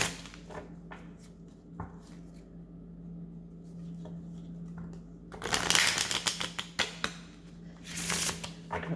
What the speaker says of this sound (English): first I'm clearing the deck